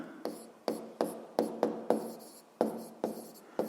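Pen strokes on paper while notes on physics are taken down, a run of about nine sharp scratching strokes at an uneven rhythm, close and clear with no talk over them.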